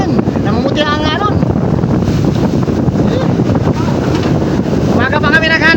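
Strong wind buffets the microphone aboard a small boat at sea in rough waves, a constant loud roar with brief voices breaking through near the start and end.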